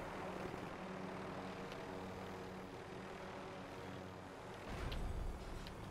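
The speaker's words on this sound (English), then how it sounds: "I'm going to take the helicopter off the roof." A helicopter in Call of Duty Warzone runs with a steady, faint engine and rotor drone, then swells louder near the end as it lifts off a rooftop.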